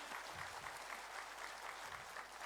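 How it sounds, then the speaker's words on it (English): Sustained audience applause fills a convention hall during a student union oath taking ceremony, even and continuous clapping at moderate distance. "खूब जोरदार क्लैपिंग"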